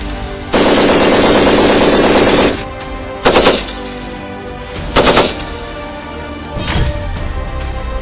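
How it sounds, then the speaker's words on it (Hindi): A medium machine gun fires one long sustained burst, then three shorter bursts follow at intervals. The rapid, loud reports sound close with no talk. "MMG से गोलीबारी"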